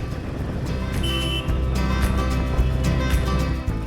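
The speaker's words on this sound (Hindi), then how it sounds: "और ये सुबह सुबह यहाँ थोड़ा सा ट्रैफिक लगा हुआ है।" Morning road traffic on Sevoke Road, heard from a motorbike: a continuous loud rumble of car and truck engines passing nearby, with no voices over it.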